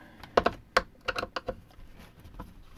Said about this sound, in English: Now we need to take the screws out.